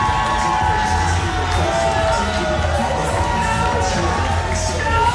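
A wrestling crowd at a live show in Miami cheers and whoops after a pin, a dense, sustained roar of shouting voices filling the room throughout.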